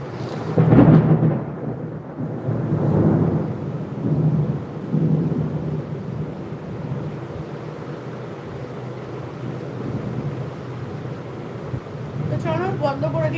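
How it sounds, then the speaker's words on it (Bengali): A thunderstorm brings deep rolling thunder in several heavy swells over the first few seconds, then a softer steady wash of rain. Voices speak briefly near the end. "ও বিদ্যুৎ চমকাচ্ছে।"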